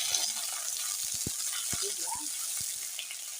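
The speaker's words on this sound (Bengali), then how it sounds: "ভেজে নিচ্ছি সজনে ডাঁটা" Moringa drumsticks frying in oil in a pan, a steady close sizzle with scattered small pops and clinks of stirring throughout.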